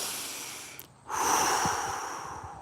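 A deep, forceful breath, with a brief pause and then a long, loud, airy inhale or exhale close to the microphone, with no talking.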